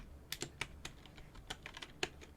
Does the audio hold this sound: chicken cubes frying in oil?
no